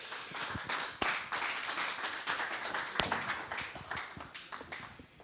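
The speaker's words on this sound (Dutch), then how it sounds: "Geef er een groot applaus ook." Audience applause at an awards event for a riding sports centre's starter of the year: a room of people clapping steadily at moderate distance, with a couple of sharper individual claps standing out.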